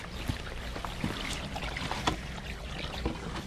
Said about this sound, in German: dann kann das Wasser laufen